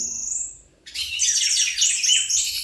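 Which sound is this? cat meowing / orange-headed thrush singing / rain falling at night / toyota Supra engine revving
orange-headed thrush singing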